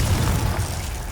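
A Confringo spell explosion in the video game Hogwarts Legacy, a short, loud, booming blast with a rumbling low end that fades over about a second.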